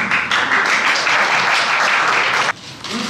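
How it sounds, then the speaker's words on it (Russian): Brief burst of audience applause at a press conference for an international vocal competition, a crowd clapping briskly for about two and a half seconds before stopping sharply, followed by a faint murmur. "Ваш аплодисмент."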